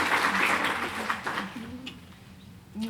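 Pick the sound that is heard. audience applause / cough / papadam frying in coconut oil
audience applause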